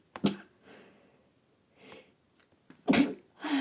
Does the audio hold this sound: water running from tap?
no